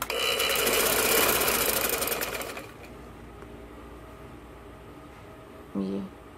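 Sewing machine stitching a ladies kurti, running fast and loud for about two and a half seconds, then stopping, followed by quiet and a brief voice near the end.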